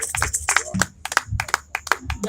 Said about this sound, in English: I was just applauding that point.